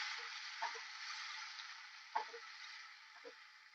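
A paste of tomato, onion and cashew fries steadily in oil, a soft continuous sizzle with a few faint clicks of stirring, quiet and close with no talking.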